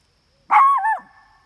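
A single sharp dog bark at a coyote rings out, loud and close, against an otherwise quiet background.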